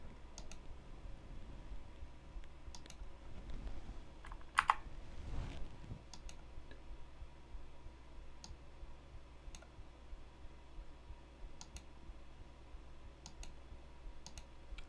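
Scattered computer keyboard clicks of Ctrl shortcut keys, sparse sharp taps spread over a quiet room with soft low background hum and one louder knock midway.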